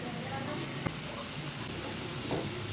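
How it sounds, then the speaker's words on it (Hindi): Potato pieces frying in hot oil give off a constant, dense sizzle and hiss that fills the whole stretch, with an occasional faint clink of a utensil. "अब ये हम तलना शुरू कर रहे हैं।"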